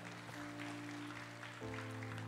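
A church congregation claps its hands, a steady wash of applause over sustained musical tones that shift midway.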